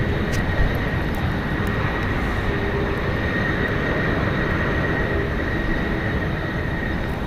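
A 23-year-old Boeing 737-800 jet roars steadily and loudly at takeoff thrust from runway 28 left at San Francisco International Airport, a continuous engine drone with no talk.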